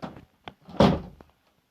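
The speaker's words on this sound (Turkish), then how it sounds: "Kapıyı açıp kapatma dur." Door opened and closed in a multiplayer bot-match video game, a few short thuds and a louder knock-like clunk in quick succession, close and brief.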